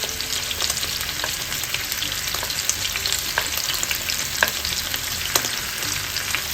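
Garlic frying in annatto oil gives a steady, loud, dense sizzle with occasional small crackles and pops throughout, and no voices.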